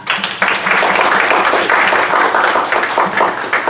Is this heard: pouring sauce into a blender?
no